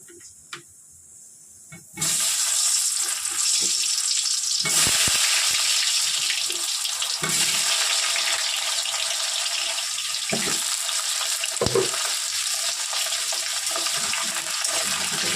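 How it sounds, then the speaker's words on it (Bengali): Potato pieces go into hot oil and the frying jumps to a loud, steady, broad hiss after a quiet start, holding unbroken with a few small crackles. "তেল গরম হয়ে গেছে, এবারে আলুগুলো ছেড়ে দিই।"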